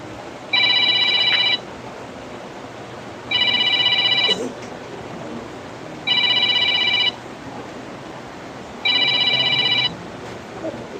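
A cellphone rings during a pool match in Davao City, four evenly spaced electronic ring bursts about a second long each, loud and close over faint room noise.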